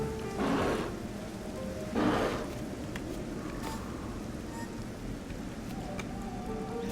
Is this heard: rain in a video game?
yes